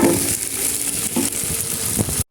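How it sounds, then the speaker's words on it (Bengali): Pepper-and-salt marinated chicken frying over high heat in a pan for chowmein, giving a loud, steady close-up sizzle with crackling bursts that cuts off abruptly at the end. "তারপর হাই হিটে দিয়ে চিকেনটা আমি ভেজে নিচ্ছি"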